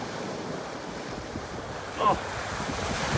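Surf breaking on the rugged shore of California's Lost Coast near Cape Mendocino, a steady wash of waves with wind rushing over the microphone and a brief louder swell near the end.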